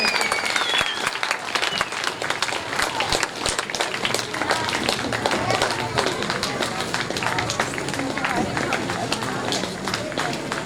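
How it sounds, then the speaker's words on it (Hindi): A large audience applauds loudly at a Bhagavat Katha religious gathering, steady fast clapping that carries throughout with crowd murmur and voices mixed in. "जोरदार ताली बजते रहना चाहिए।"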